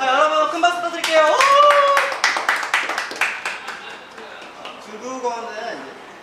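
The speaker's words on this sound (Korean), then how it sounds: "여러분 큰 박수 부탁드릴게요" A studio audience at an idol talk show claps loudly in quick, sharp bursts that thin out over several seconds, with voices and laughter over the first half.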